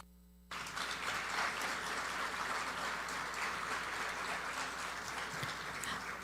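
An audience at a judicial panel discussion welcomes the speakers with loud applause, which starts abruptly and then holds as a thick, sustained clatter of many hands to the end.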